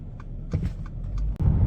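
A Mercedes ML 350 driving on a road gives a low, close rumble from inside the cabin, with a few short knocks and clicks over the steady engine and road noise.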